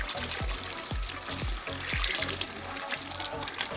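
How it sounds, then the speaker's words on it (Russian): Water runs and splashes while hair dye is rinsed out of hair at a salon, with a steady trickling stream broken by several soft, rhythmic sloshing pulses. "смываем его просто водой"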